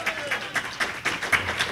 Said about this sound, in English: Clap. Anybody?